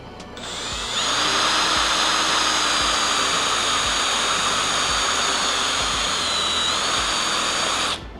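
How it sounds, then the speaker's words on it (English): Power drill whines loudly and continuously for several seconds, spinning up, holding a steady high-pitched drone and then winding down, with chips dropping during drilling. "trying to push and pull while drilling"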